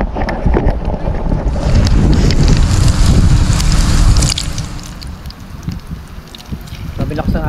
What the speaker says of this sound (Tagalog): Sabi lakas ng hangin, kala mo uulan.